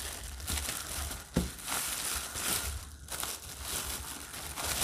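Plastic bag packaging around a pair of books being unwrapped, with loud continuous crinkling and crushing rustles close to the listener, broken by brief sharp crackles.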